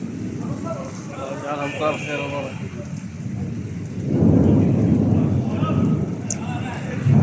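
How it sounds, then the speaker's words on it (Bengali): Heavy rain pours down during a thunderstorm in Mecca, a dense steady hiss with a deep rolling rumble swelling midway, while a person talks over it. "অনেক অনেক বৃষ্টি হচ্ছে, বিদ্যুৎ আপনার বিজলি চমকাচ্ছে অনেক, প্রচুর"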